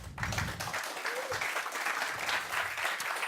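Audience applause welcoming a speaker at a hacker camp talk, a full, even patter of many hands clapping that holds steady throughout, with faint murmuring underneath.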